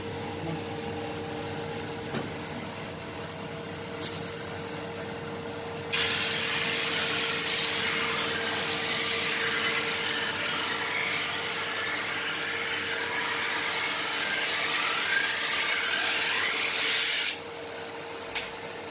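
A ski base is sanded in a ski shop, a loud continuous abrasive rasp that starts briefly, pauses, then runs steadily for about eleven seconds before stopping.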